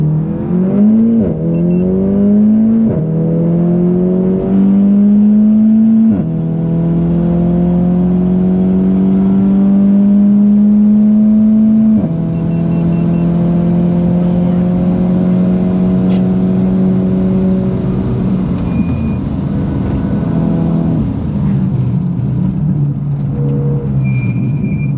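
A 400hp DSG-swapped Audi S1 accelerating hard on a Nürburgring lap, heard from inside: a loud engine note climbs steadily through the revs, with quick gearshifts that drop the pitch before it climbs again, steady and sustained.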